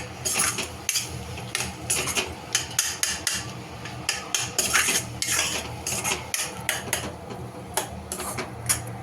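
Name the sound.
stirring pav bhaji masala in a pan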